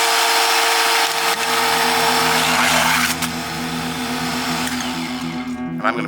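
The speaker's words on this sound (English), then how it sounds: "This is a chainsaw." A chainsaw runs alone at a steady high-pitched whine, loud and close, its pitch dropping and its tone roughening slightly partway through.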